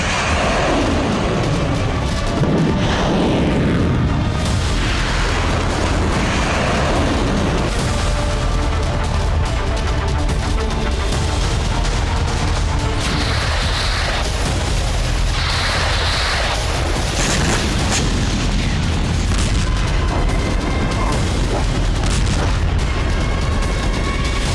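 A missile launch and explosions in a war zone fill the whole stretch with a loud, continuous roar broken by heavy booms and rumbling blasts. No voices stand out.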